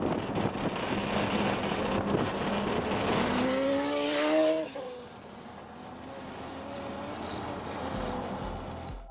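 A supercharged Mercedes SLS AMG sports car races past, its engine rising to a loud, pitch-climbing roar through several gear changes, then fading to a distant drone amid wind noise on the microphone.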